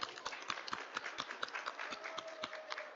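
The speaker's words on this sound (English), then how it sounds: "Give yourselves a round of applause." Scattered hand claps at an education conference panel in Las Vegas, sparse and uneven rather than a full ovation, moderately close with a light room murmur underneath.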